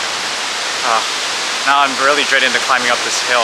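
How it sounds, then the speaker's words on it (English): Steady broadband roar of a waterfall on Kauai, continuous and fairly close, running under a voice throughout. "beautiful waterfall."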